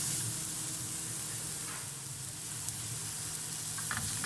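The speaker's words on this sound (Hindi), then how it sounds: "इनको भी हम 2 से 3 मिनट तक हल्का सा सौते कर लेंगे" Onions and mixed vegetables sauté in a pan for a chicken and vegetable sandwich, giving a steady, close sizzle and hiss that carries evenly throughout with faint stirring touches.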